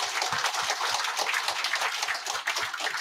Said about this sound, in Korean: 제 말씀에 대해서 동감하시는 박수 한번 쳐주시기 바랍니다